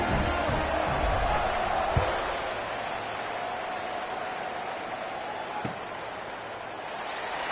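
Football stadium crowd at kickoff, a broad steady roar of many voices sustained throughout, heard from a distance with a couple of brief sharp thuds rising above it.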